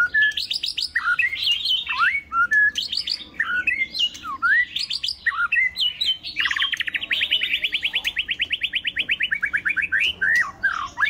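White-rumped shama with a golden-yellow gape, a wild-caught bird with a tail over 20 cm, sings a loud, close, varied song of whistled phrases, then a long rapid trill, with no voices.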